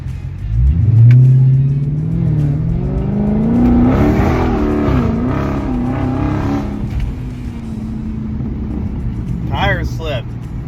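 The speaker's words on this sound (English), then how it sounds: "you get to listen to the exhaust" A car's exhaust swells in a quick acceleration pull, rising sharply from low to a loud rasping roar, then easing into a steady cruising hum with tires hissing over a wet road.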